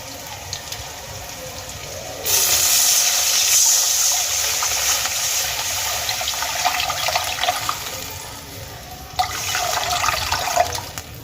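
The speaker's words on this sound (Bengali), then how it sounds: "এবার এর মধ্যে আমি দিয়ে দেবো পরিমাণ মতো জল" Water poured into a frying pan of fried slit green chillies and nigella seeds, a loud, close gushing pour that starts after about two seconds and runs for several seconds, followed by a brief second splash near the end.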